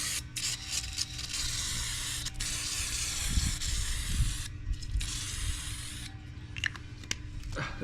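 Brake cleaner sprayed from an aerosol can onto a wheel being prepared for painting, heard as a loud, close, sustained hiss in long bursts separated by brief pauses, with faint rubbing underneath.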